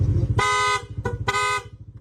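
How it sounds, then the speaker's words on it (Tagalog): A loud, bright musical car horn blasts in two long tones separated by a short toot, over a rumbling idling engine. "Try natin yung musical horn."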